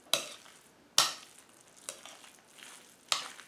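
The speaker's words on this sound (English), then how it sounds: "as you can see they're mashing up well" Sweet potatoes being mashed for a sweet potato souffle: four sharp scraping, squelching strokes spaced about a second apart, each fading quickly into a quiet background, with no talking.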